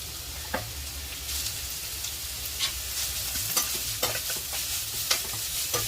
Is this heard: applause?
no